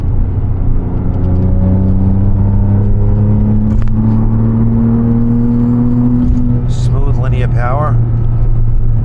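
A 2006 Porsche Cayman S with a six-speed manual pulls hard, its engine droning loud and close with pitch rising steadily under acceleration, a voice speaking over the cabin rumble.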